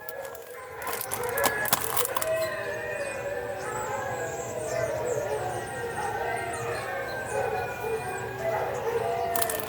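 Several dogs in a neighbour's house on a residential street howl together in a sustained, wavering chorus at moderate distance, with a few sharp barks near the start.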